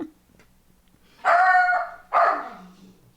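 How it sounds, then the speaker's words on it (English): A pet dog lets out two loud, drawn-out barks close to the microphone, each ringing for most of a second, with a faint noise before them. "Sorry, my dog's going nuts again."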